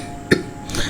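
One short cough, or a throat clear, from an ill person with a mild fever in a Hindi animated story about coronavirus. It is a single close burst, with no speech around it.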